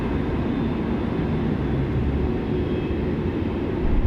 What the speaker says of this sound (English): There we go, they're clear to land now.